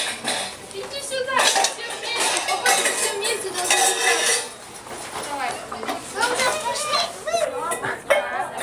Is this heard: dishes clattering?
yes